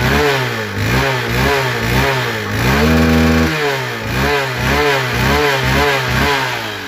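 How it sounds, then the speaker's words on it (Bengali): A used Hero Hank 150cc single-disc motorcycle with about 768 km on it revs in a loud, rhythmic series of throttle blips, with one longer sustained rev midway, close up and with no voices. "এখন দেখো বাইকটির সাউন্ড কোয়ালিটি এবং পারফরমেন্স।"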